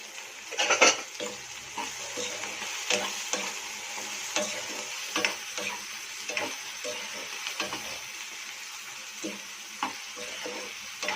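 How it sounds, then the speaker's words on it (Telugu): Goat head meat curry with brinjals is stirred in a pan and sizzles steadily, with a ladle scraping and knocking against the metal at irregular intervals, close and clear. "ఒకసారి కలుపుకుందామండి."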